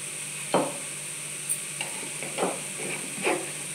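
Capsicum and salt sauté in a hot pan, a steady sizzling hiss broken by a few soft stirring scrapes, close and moderately loud with no talking.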